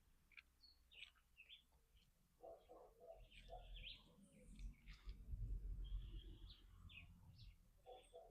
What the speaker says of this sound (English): Just hear a bird in the background or some birds sound like John Chewy.